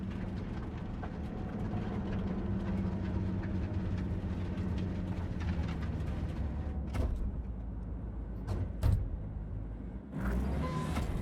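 The Basilisk-hijack train in Cyberpunk 2077 rumbles steadily and loud, a continuous low mechanical roar with a few brief clanks near the end.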